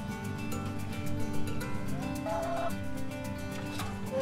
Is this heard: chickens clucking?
yes